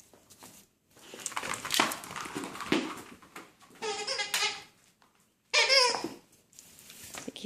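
Mickey, a roughly 40-pound puppy, gives a run of whimpers, yips and bleat-like whines in close, intermittent bursts, with short quiet pauses between them.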